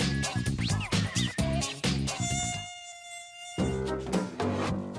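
Mosquitoes in the Camargue near the village of Le Sambuc, close to Arles, make loud, close, whining buzzes that swell and fade across the stretch, with layered tones from several insects.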